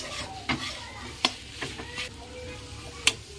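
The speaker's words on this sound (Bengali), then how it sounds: "লাল শাকটা আমার ভাজা হয়ে গেছে এখন তুলে নেবো" Soft sizzling of red amaranth greens frying in a pan with scraping and stirring clinks, a few sharp metallic taps standing out over the steady hiss.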